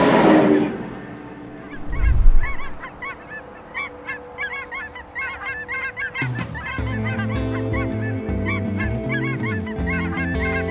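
A big flock of cackling geese honking in a valley near Portland, Oregon, with a dense, continuous chorus of high calls after a low thump at the start and a steady rumble underneath.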